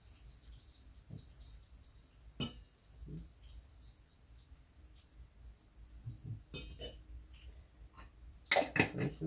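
A coffee spoon clinking against a cup in a quiet room, with a few faint scattered taps and then a quick burst of bright clinks near the end, close but soft.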